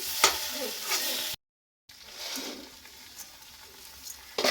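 Vegetable bharta being stirred in a wok, with a soft continuous sizzle and scraping strokes of the spoon. A brief silent gap falls midway, and one sharper knock sounds near the end.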